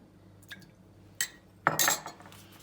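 A metal spoon clinking against a glass or cup while water is added for dalgona coffee, a few sharp, close taps followed by a brighter clatter and brief pour near the end.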